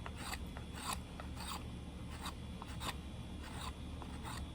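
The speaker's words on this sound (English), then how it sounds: "I'm gonna get a couple little splits, and I'm also gonna make some shavings." A knife shaves thin curls off a piece of wood for fire starting, giving repeated short rasping strokes in an irregular rhythm, quiet and close.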